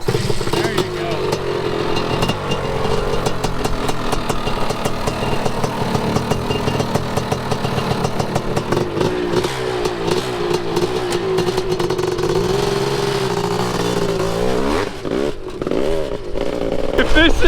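A Honda CR500 two-stroke engine fitted to a racing lawn mower runs loud and close, a rough, raspy continuous drone with choppy revving and a short dip near the end, with voices talking over it.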